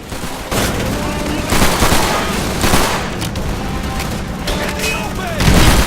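Machine gun fire in Call of Duty 3 forms a dense, loud, continuous crackle of rapid shots with booming surges. Battle noise fills the whole stretch.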